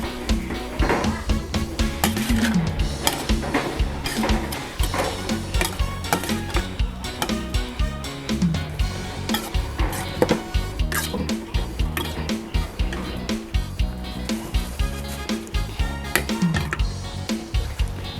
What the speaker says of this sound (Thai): ก็คนส่วนผสมทุกอย่างให้เข้ากันนะคะ